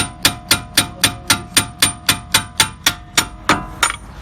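Steady metallic tapping on a Tofaş car's front brake pad assembly, about fifteen evenly spaced hammer-like knocks roughly every quarter second, close and clear with no talk.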